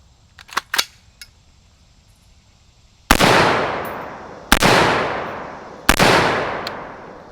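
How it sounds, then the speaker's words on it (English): A Guardian Defense Manufacturing GDM556k rifle fires three loud, sharp rounds into an earthen berm outdoors. The shots come at even intervals about a second and a half apart, and each crack trails off into a short, echoing decay. "So up first, we'll shoot 3 rounds into the berm right here, just to get a feel for what the sound is."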